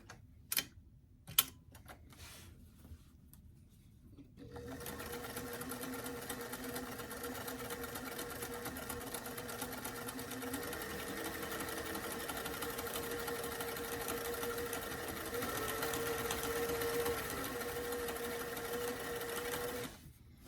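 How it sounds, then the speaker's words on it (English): A sewing machine runs steadily for a long stretch, its fast mechanical whirr and ticking stitch rhythm close and continuous after a few quiet taps. "let's take it back over to the sewing machine to add that top stitch"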